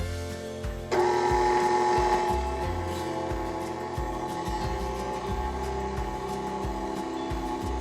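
An electric hand mixer runs on medium speed through cupcake batter, a loud, steady motor whir that jumps up in level after the first second and holds, with rhythmic low thumps of the beaters against the bowl.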